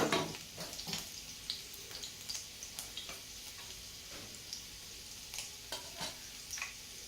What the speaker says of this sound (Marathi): तेल आधीच गरम असल्यामुळं आपण लगेच लसूण घेतलेला आहे त्याच्यात टाकून